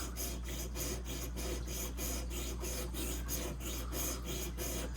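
A traditional pocket knife blade being sharpened on a Worksharp Precision Pro, making even, rhythmic rasping strokes, close and continuous, repeating about twice a second.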